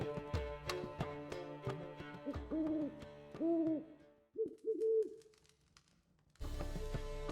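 A pet bird in The Witcher 3 game lets out a few soft, repeated hooting calls in short bursts, set against quiet background game music and ambience.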